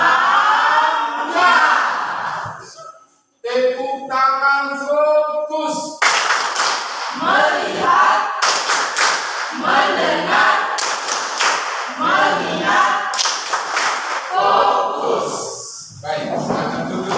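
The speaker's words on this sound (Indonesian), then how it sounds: "Tepuk tangan" A class of seventh-grade students claps hands together in a rhythmic, patterned classroom cheer, loud and close, with bursts of voices chanting between the clapping.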